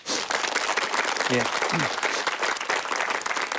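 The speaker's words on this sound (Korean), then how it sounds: "한번 박수 한번 크게 쳐주시죠" A crowd applauds loudly and continuously, dense clapping filling the space, with a brief voice calling out partway through.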